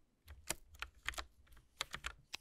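Keys on a Logitech mechanical mini keyboard are pressed one after another in quick irregular clicks, some in fast pairs, crisp and close against a quiet background.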